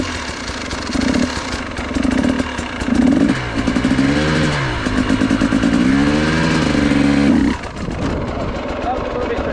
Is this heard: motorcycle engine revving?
yes